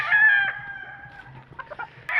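Backyard chickens kept by a gamefowl raiser, with a rooster's drawn-out crow up close followed by a few short clucks and another crow starting at the end, over a low background hum.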